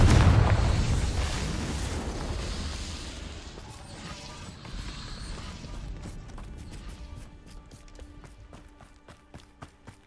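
A Confringo fire spell explodes in Hogwarts Legacy, a loud booming blast with a heavy low rumble that gradually fades, followed by scattered crackling debris and lighter game effects.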